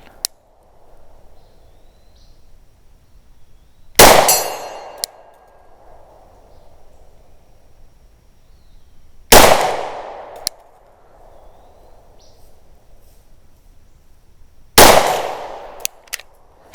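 A Glock 20 Gen4 10mm pistol fires three sharp, loud single shots spaced several seconds apart, each a close, cracking report with a brief ringing decay, over quiet outdoor background between shots.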